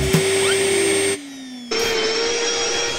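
A vacuum cleaner runs close by with a loud steady whine and droning motor, its pitch dropping as the intake is briefly blocked, then rising again as the motor resumes full suction.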